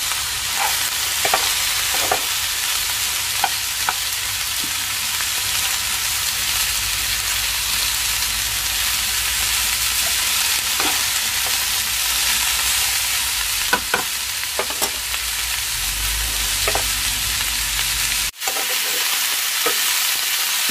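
Beans stirred through a sizzling tempering give a constant loud frying hiss, broken by occasional scraping knocks of a spoon against the pan, with a brief sharp clatter near the end.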